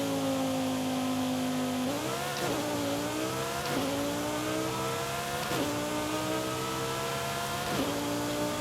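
A car accelerating on a highway in Forza Horizon 5 with 12 pounds of boost and torque in the 600s, the engine note climbing steadily and dropping at several quick gear shifts, loud and continuous.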